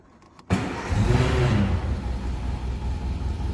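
A 1960 Nash Metropolitan convertible catches after a short silence, its small engine bursting into a loud, steady idle rumble that settles and holds close by with no talk.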